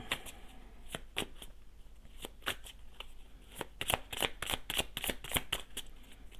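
Tarot cards shuffled close by, crisp repeated slaps and riffles that grow denser and louder toward the end, no one speaking.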